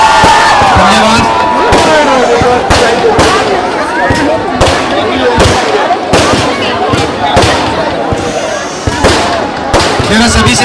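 Fireworks at a Dussehra celebration in Premnagar, Dehradun crack and burst in rapid irregular volleys, loud and close, over a noisy crowd with voices calling out.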